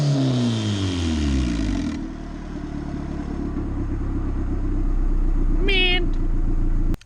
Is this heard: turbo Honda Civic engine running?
yes